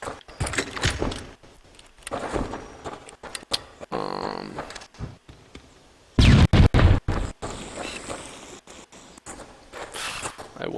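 Grenade blast in Halo 1 (Halo: Combat Evolved) multiplayer: a loud, heavy boom bursts out partway through amid scattered gunfire and game effects, with someone talking over much of it.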